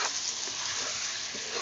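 Chicken meat being stirred as it fries in a pan with tomatoes, a steady close-up sizzle with faint scraping under it throughout.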